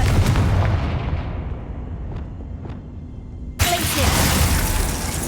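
A Confringo fire blast spell in Hogwarts Legacy goes off with a sharp, loud boom partway through, over constant rumbling game noise and a couple of faint whooshing streaks beforehand.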